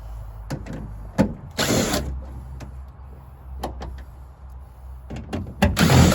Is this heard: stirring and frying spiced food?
no